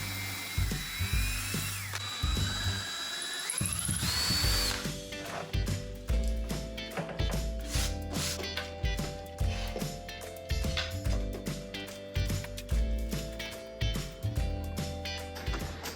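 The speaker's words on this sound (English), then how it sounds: "To permanently secure the top to the cart, I'm drilling holes to put wooden dowels" Power drill boring dowel holes into a small wooden cart, its steady whine running for about four seconds near the start, then fading under a bed of background music for the rest.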